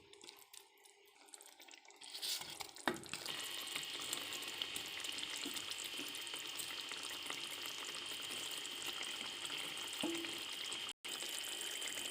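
Aar fish pieces drop into a simmering masala yogurt curry gravy, setting off a loud, steady sizzle and bubbling that continues without pause after a quiet start.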